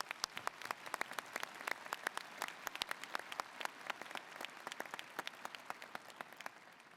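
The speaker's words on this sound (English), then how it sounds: "Let's give them a round of applause." An audience at a university commencement ceremony bursts into steady applause, many hands clapping densely and evenly, heard at a modest distance with no voices over it.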